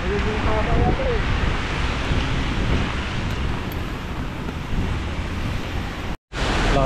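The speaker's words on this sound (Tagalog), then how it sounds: "Malakas pa rin po yung bagyo ngayon. Ayan, oh, lakas ng hangin, oh." Strong typhoon wind roars loud and steady, a broadband rush of gusts buffeting the microphone throughout, briefly cutting out near the end before returning at full force.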